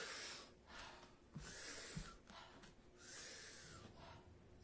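Wim Hof style breathing: a deep, loud mouth inhale followed by a softer, shorter exhale, repeated about twice in quick succession, close to the microphone with airy hiss and no speech.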